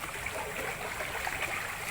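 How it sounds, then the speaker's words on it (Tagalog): Floodwater rushing and swirling during a wading crossing, a steady broadband wash of flowing water with no clear breaks, fairly loud and close throughout. "Mas malakas tubig pag dito na oh. Ayan oh, may ikot-ikot yung tubig oh."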